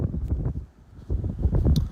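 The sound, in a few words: strong wind in a tunnel blowing on phone microphone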